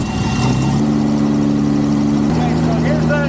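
A military M715 truck engine fitted with a Holley carburetor runs steadily at a low idle, then its revs step up a notch and hold there, with a voice talking over the engine.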